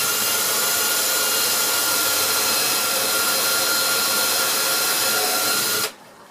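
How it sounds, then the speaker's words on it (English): A power drill bores a hole into wood, set at clutch setting 18 in drill mode, making a loud, steady whir for nearly six seconds before it cuts off abruptly. "Drill my hole"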